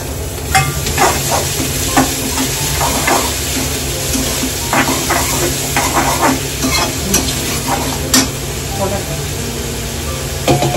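Chopped tomatoes sizzle loudly in a hot pan for a stuffed brinjal dish, with a continuous frying hiss under repeated scraping stirs of a spoon against the pan, close up.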